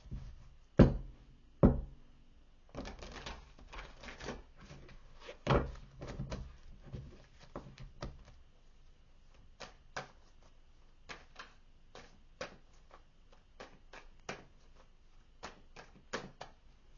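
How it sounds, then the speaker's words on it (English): Tarot cards being shuffled in a series of crisp riffling bursts and taps, busier in the first half and then settling into sparse separate clicks, close and alone with no talk. "Let me give it one more shuffle."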